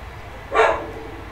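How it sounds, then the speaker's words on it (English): A dog gives a single short, sharp bark indoors, loud and close, with nothing else around it. "dog goes a little crazy from time to time"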